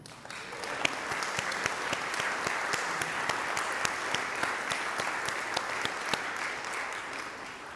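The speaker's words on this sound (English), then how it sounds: "give yourselves" A Sunday service congregation claps in a sustained round of applause, a dense steady patter of many hands filling the room, with no speech over it.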